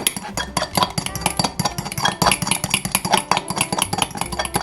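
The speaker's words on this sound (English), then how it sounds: "And I'm going to beat this with the fork. I'm trying to crush up some of the larger chunks of cheese." A fork rapidly beating crumbled feta cheese in a bowl, making a fast, regular run of clinking, tapping strokes, close and fairly loud.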